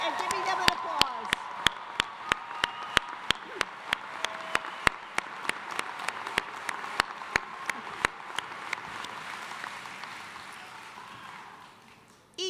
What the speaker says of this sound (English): Will everyone join me in giving them an applause?